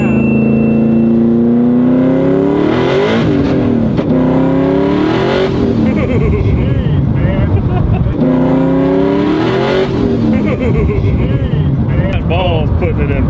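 A 700hp Scion FRS revs hard while doing burnouts, its engine screaming up and dropping back in repeated loud, close sweeps, with tyre and exhaust roar filling the gaps and voices in the background.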